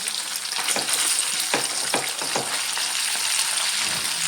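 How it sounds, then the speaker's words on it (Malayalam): Anchovies frying in hot oil give off a loud, steady sizzle, with a few sharp scraping knocks as the small fish are turned over in the pan. "എല്ലാം ഒന്ന് മറിച്ചിട്ട് ഫ്രൈ ചെയ്ത് എടുക്കാം"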